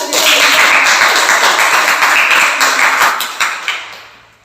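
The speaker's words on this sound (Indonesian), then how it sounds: "Tepuk tangan aja lah." A group of students in a school guidance session claps together in a loud, dense burst of applause that thins out and fades near the end.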